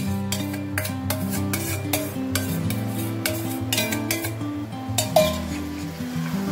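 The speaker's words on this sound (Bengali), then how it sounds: "এবার আমি মশলাগুলোর সঙ্গে মাটনগুলোকে খুব ভালো করে কষিয়ে নেব।" Mutton being stirred with spices in a pan, with a spoon scraping and clinking against the metal in steady repeated strokes, close up and alone over a soft background hum.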